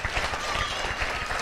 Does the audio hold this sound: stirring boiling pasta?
no